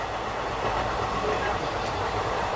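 A passenger train runs along the rails with a continuous, close rumble and wheel clatter, steady and loud throughout.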